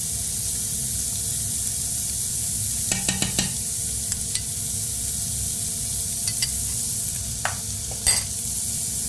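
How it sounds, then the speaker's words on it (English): A clove of garlic sautés in a hot pan with a steady sizzling hiss. Brief clinks and scrapes of a utensil break in now and then, and no one speaks. "we're going to add a clove of garlic to that too, so it gets kind of sauteed and toasty"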